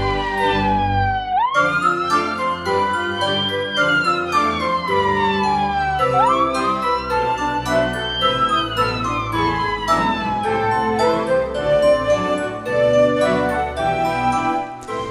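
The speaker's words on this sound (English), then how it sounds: "Daddy Pig was driving the ambulance today, and he went as fast as he could to the playground" Looping wailing ambulance siren from a Peppa Pig toy stop-motion scene, loud and continuous with rising and falling sweeps, plus a light tinkling jingle layered underneath.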